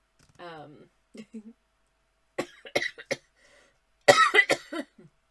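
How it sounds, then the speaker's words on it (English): Several hard, harsh coughs come in short bursts, with a couple of separate fits, close to the listener with quiet pauses between them. "I just coughed so hard I gave myself a headache."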